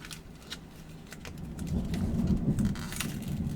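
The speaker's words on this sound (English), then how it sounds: "now it's pouring down rain again" Heavy rain pours down outside, a dense steady patter that swells louder midway with a low rumble underneath, heard from indoors near a window.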